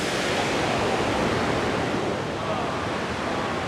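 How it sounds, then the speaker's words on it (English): A waterfall on the Jeju Olle Trail roars as a dense, steady, close rush of falling water that holds constant from start to end. "Waterfall."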